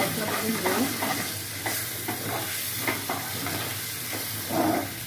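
Spices with a generous pinch of asafoetida sizzle in a hot pan for urad dal kachori filling, while a spoon scrapes through them in steady, repeated strokes, close and moderately loud.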